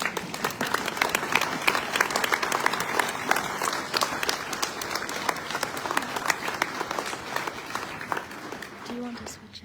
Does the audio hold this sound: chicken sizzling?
no